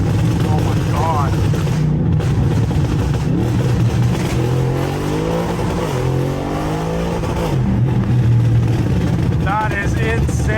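Loud, close roar of an 800hp straight-piped Audi RS7 accelerating hard on a road, with a rising engine note that rumbles continuously through the whole stretch, while a person talks excitedly over it.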